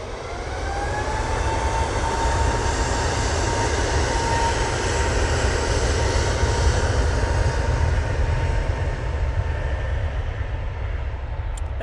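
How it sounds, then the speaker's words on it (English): A Qatar Airways Boeing 777-300ER arriving from Doha at Manchester Airport gives a steady, broad jet roar with faint rising engine whine, holding loud and even throughout with no talk. "Next in, the Qatar 777-300ER coming in from Doha"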